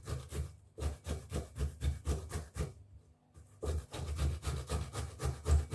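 Hands rubbed together with a homemade grated tomato paste scrub, a rhythmic rough rasping swish repeated in quick strokes, close by, with a short pause midway before the rubbing resumes.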